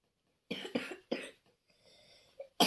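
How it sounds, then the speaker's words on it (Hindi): A few sharp coughs from a person with a cold, in a quick burst of three to four close, loud hacks, followed by a quieter breathy pause and another cough at the end. "दोस्तों मुझे ना खांसी हो रही है और जुकाम आ रहा है।"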